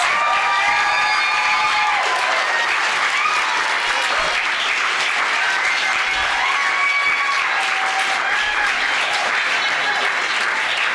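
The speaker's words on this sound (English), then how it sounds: "Let me hear the applause for all of my wonderful contestants." A crowd claps for contestants at a county poetry recitation final, sustained full applause with a few scattered cheers and whoops riding on top, loud and continuous throughout.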